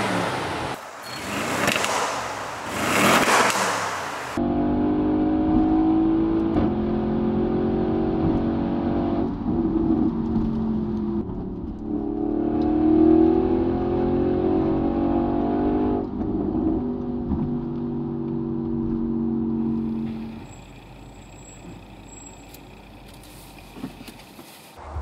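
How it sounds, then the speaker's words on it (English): Audi RS6 C7 with a 4-liter twin-turbo V8 on stock exhaust, heard from inside the car, revving and pulling in long steady surges with a deep droning tone, after a brief burst of louder noise at the start. "It's pretty all right with the stock exhaust."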